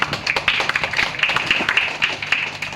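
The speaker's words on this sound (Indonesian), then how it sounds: "Tepuk tangan dulu." Hand clapping from a mosque youth gathering at an Isra' Mi'raj celebration in Medan, a steady run of sharp claps from several people, fairly close, with faint voices underneath.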